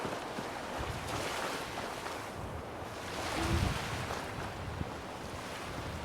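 Water lapping and washing along the shore near a cannery with a boat in Fallout 4, a steady broadband wash with a slight swell midway, with no voices.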